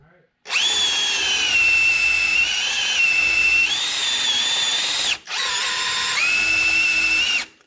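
Power drill spinning an engine's oil pump counterclockwise to prime a 500 HP stock block turbo engine, a loud close whining drone in two long runs with a short break between.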